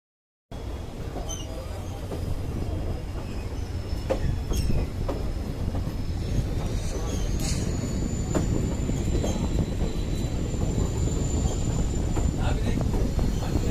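A train runs along the Silchar to Haflong rail route with a loud continuous rumble of wheels on track, faint squeals and rattles rising over the ride.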